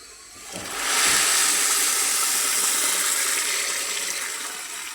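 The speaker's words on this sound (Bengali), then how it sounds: "এখন আমি ঝোলের পানি দিয়ে দিব" Broth water poured into a hot pan of fried rice while cooking chicken pulao sets off a sudden loud, steady hiss and sizzle that holds for several seconds, then eases off slightly, with no talking.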